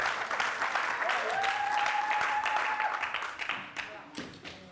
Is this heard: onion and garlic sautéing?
no